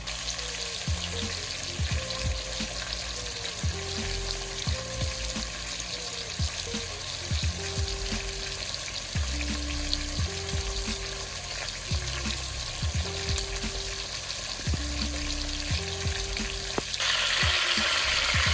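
Oxtail pieces searing in a pot give a steady frying sizzle across the whole stretch, with repeated low knocks and scraping stirs at a fairly regular pace and a brighter, louder burst of sizzle near the end.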